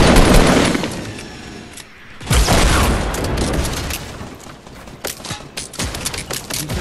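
Loud, dense gunfire from the video game Fortnite crackles in rapid bursts and scattered single shots, with a brief lull before heavy firing resumes and sharp reports spread through the rest.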